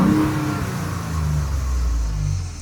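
A Ford Raptor truck engine with a 500 HP upgrade revs loudly and close, a deep sustained roar whose pitch climbs and settles, with no voices.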